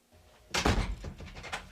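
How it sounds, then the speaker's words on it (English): A door is shut with a solid thunk followed by a few softer knocks and rattles of the latch being locked, close by and fairly loud, with no talking. "She not only locked the door, she's calling her neighbor."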